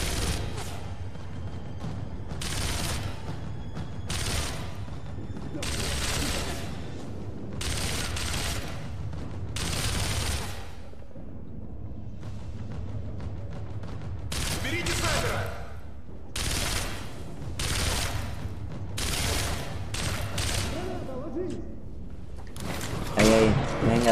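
Enemy soldiers fire in Sniper Elite V2 in repeated bursts of gunfire at a fairly regular pace, each volley loud and sharp, with short quieter gaps between them.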